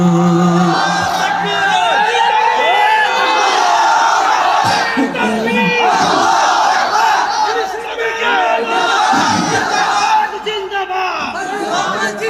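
A large crowd at a religious gathering chants takbir, Allahu Akbar, in loud, continuous massed voices that rise and fall together, filling the whole stretch with energetic shouting.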